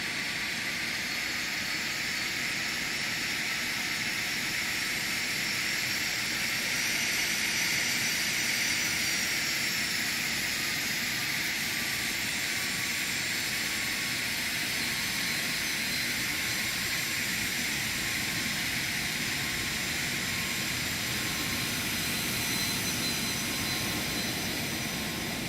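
An Aerobask light aircraft taxis in a flight simulator game, its engine a steady sustained drone with a faint high whine running unbroken throughout, loud and close with no voices.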